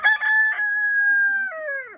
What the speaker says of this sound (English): I've had people say, oh, a rooster got out.